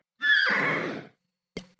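A horse in The Sims Create a Sim gives one clear, close whinny lasting about a second, followed by two short snorting bursts after a brief silence.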